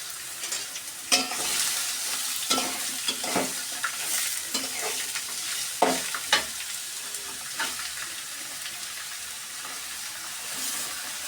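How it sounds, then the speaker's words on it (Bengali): Chopped snake gourd fries and gets stirred in a pan, with a continuous hiss and sizzle broken by repeated scraping and clinking of a spatula at an uneven rhythm. "এই যে কেটে রাখা চিচিঙ্গাগুলোকে এখন দিয়ে দেব।"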